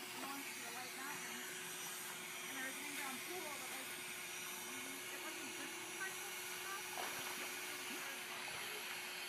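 An electric air pump inflates pool toys at the pool with a faint, steady whirring hiss over a constant hum. Soft voices can be heard underneath.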